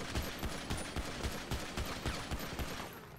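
Video game gunfire during a GTA roleplay police shootout: a rapid, steady burst of repeated gunshots, roughly ten evenly spaced cracks over a few seconds, moderately loud with no talk.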